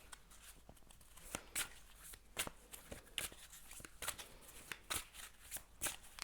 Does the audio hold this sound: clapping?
no